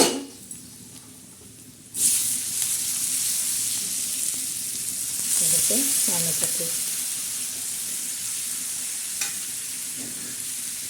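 Onion, potato, capsicum and brinjal fry on a griddle with a constant bright sizzle that jumps up suddenly and keeps going, with stirring and scraping clatter in the middle.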